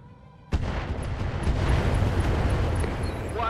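A heavy artillery blast in the mech combat game Roguetech, a BattleTech mod, erupts suddenly after a quiet moment and rolls on as a dense, loud rumble.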